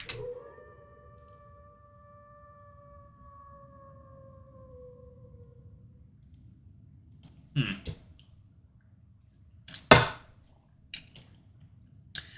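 A creature in a video game lets out a long wavering howl that fades over several seconds, followed by sparse sharp clicks and thuds in an otherwise quiet scene.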